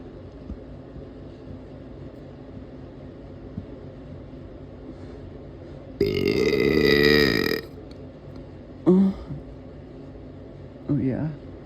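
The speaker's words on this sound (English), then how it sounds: "Let's see if we can get a long burp." A person lets out a long, loud burp lasting about a second and a half, followed by two shorter, quieter burps a few seconds apart, all close to the microphone against a low background hum.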